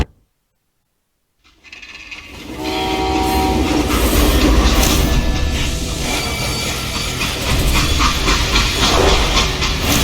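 A freight train in the Western shooter Call of Juarez Gunslinger rolls loudly on the rails after a second of silence, with a steady rumble, rhythmic clatter, hiss and a horn-like tone rising over it.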